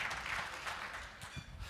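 Audience at a live event applauding a speaker as he comes on stage, a brief dense wash of clapping heard fairly faintly.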